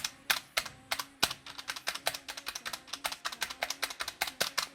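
Typing on a budget aluminium mechanical keyboard, a rapid run of sharp, close clacks with a few heavier spacebar strikes carrying a slight metallic ping, alone without talk.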